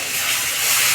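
Turmeric and garlic-chili paste sizzle in hot oil in a home kitchen: a steady, close, hissing fry with a bright, even texture and no voices.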